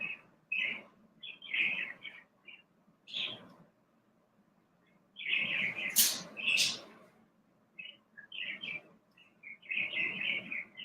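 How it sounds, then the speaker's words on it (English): Bird chirping from somewhere overhead, repeated short high tweets in scattered bursts with a louder flurry of calls midway, moderately distant and heard alone. "Bird way over my head."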